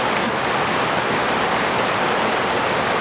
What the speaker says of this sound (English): So, that's the waterfalls.